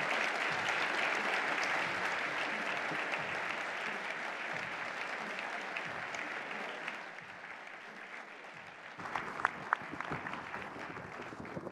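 An audience at a university lecture applauds to welcome John Hennessy, Stanford's president, with a sustained dense clapping that thins and softens toward the end.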